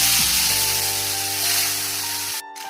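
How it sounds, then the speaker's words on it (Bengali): Fish frying in hot oil in a wok, a loud continuous sizzle with a low steady hum underneath that cuts off abruptly near the end. "মাছটা ভেজে নেবো।"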